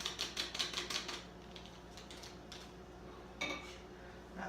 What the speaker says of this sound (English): Give her a good stir.